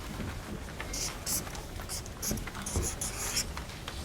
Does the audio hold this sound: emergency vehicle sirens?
no